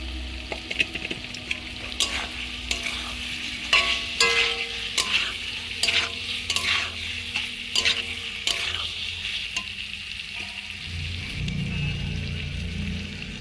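Chicken stomach and fried potatoes stir-fry in a spice paste, with repeated clattering stirs and scrapes over a steady sizzle, close up, and a brief heavier rustle near the end.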